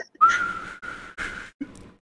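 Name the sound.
voice imitating a whistle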